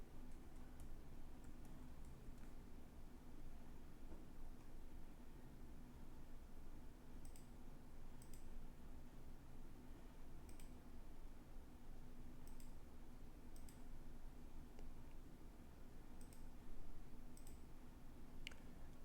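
A computer mouse clicks faintly several times at irregular intervals, small sharp ticks over a steady background hiss.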